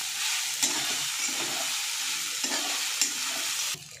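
Sabudana and fried peanuts being sautéed in a pan, with a constant close sizzle broken by a few scraping stirs before it suddenly drops off near the end.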